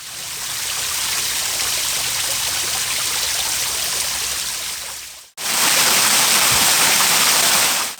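A small waterfall and stream in a sandstone ghyll in the High Weald, East Sussex, pour in a steady broadband rush, with a brief drop near five seconds before the water noise returns louder and closer.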